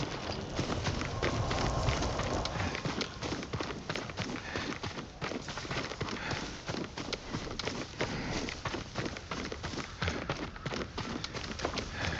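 A horse gallops in the Ghost of Tsushima video game, its hooves pounding in a steady, rapid rhythm within a dense, continuous wash of game ambience.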